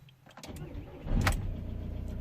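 A van's engine starts with a brief crank and fires into a low, steady idle that keeps running to the end, heard fairly close.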